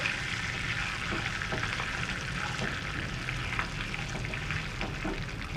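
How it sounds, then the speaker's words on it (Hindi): Curry leaves fry in hot oil for batata vada, a steady close sizzle with small crackles and faint stirring running evenly throughout, no voices. "पत्ता भी डालकर हम हल्का सा भूनेंगे।"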